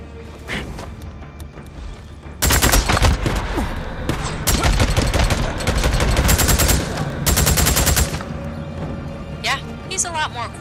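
Gunfire in the video game Days Gone: loud bursts of rapid automatic shots break out in two long stretches, with lighter scattered shots and shouting voices around them.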